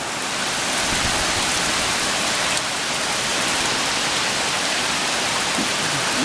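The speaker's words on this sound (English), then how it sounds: "Getting pretty breezy out there. Hey, the trees get moving around, raining pretty good." Heavy rain and gusting wind move through trees during Hurricane Irma, a loud, steady, broadband wash of rainfall with no pauses.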